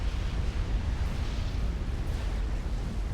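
Artillery fire and explosions in the real-time strategy game Supreme Commander, heard as a dense, continuous rumble of overlapping low booms and blasts with no pauses, loud throughout.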